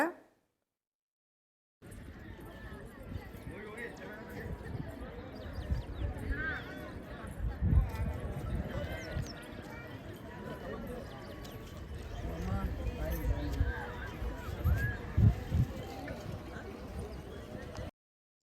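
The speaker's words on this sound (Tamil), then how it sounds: "ஒட்டக சவாரி குதிரை சவாரி இதெல்லாம் பண்ணிக்கிட்டு இருந்தாங்க" Horses clop steadily along a riverbed where horse and camel rides are offered near Mantralayam temple, hooves audible under a speaking voice amid outdoor crowd noise.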